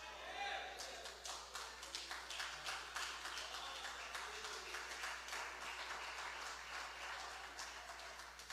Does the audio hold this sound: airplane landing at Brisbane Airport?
no